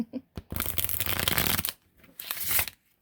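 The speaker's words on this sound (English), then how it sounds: "I might actually show you the shuffling on these" Tarot cards riffle and shuffle up close in two bursts, a long crisp flutter followed by a shorter one, with a few light taps before.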